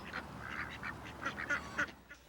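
A duck quacks repeatedly in short, irregular calls at moderate distance, the quacks quiet and spread over a couple of seconds with no talking.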